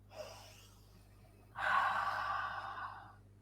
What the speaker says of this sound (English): we will take few deep breaths, something like this